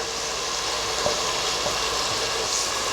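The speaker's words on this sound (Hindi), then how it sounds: "में टमाटर, प्याज और हरी मिर्च का पेस्ट। इसे हम भून लेंगे।" Tomato, onion and green chili paste frying in oil, giving a steady, even sizzle with faint stirring scrapes throughout and no talking.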